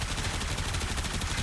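The Supra Hexa-Saticron, a high-capacity automatic weapon in a video game with a 300-round magazine, fires a dense, steady stream of rapid shots, loud and continuous.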